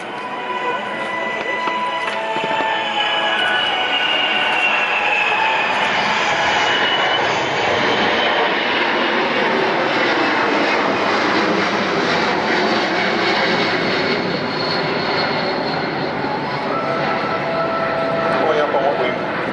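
A large military cargo aircraft built to carry Army vehicles, including battle tanks, flies an RAAF display at an Australian airshow. Its loud, continuous jet roar fills the whole stretch while a commentator speaks over it.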